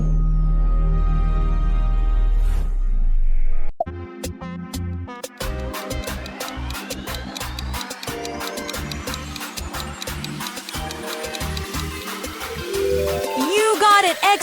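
The Xbox logo sound plays as a low, humming swell that builds, then breaks into a bright, dense rush of layered chimes and rising synthetic tones that continue loudly to the end.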